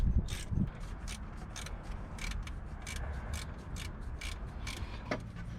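Ratchet loosening 10mm bolts on the alternator of a 2006 Ford F350 5.4, sharp repeated clicking strokes in an even rhythm, close and clear with no voices.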